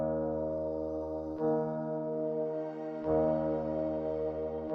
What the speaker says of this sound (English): we can place another texture just in front of it, which is going to be an airy voice texture